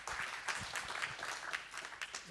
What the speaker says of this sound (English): Just give him a hand of applause, please.